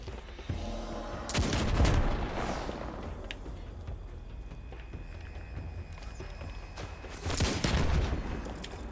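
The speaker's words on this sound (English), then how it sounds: "Shooting over there." Gunfire in the video game Destiny 2 plays out as bursts of rapid shots and booms, with two heavy clusters standing out over a constant background of battle noise.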